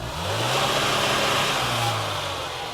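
A car engine revs steadily against an AccuSpark rev limiter near 4,000 RPM, a loud, sustained mid-pitched drone that holds, dips slightly and climbs again.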